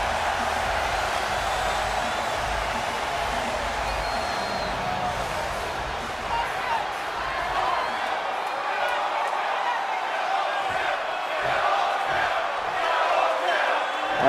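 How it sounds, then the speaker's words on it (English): A capacity arena crowd in Los Angeles roars steadily in a WWE Smackdown wrestling video game, a constant wash of noise running under a commentator's talk. "Once again, capacity crowd here tonight in LA."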